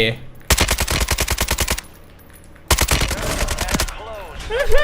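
AK-47 rifle fire in Call of Duty Warzone: two long, rapid automatic bursts of evenly spaced close shots separated by a short pause, followed by whooshing game effects.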